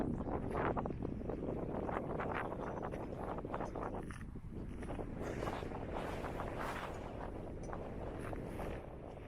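Steady wind buffets the microphone with a constant rough roar, gusting a little louder and softer throughout, with no voices present, on a mountain top on New Zealand's South Island.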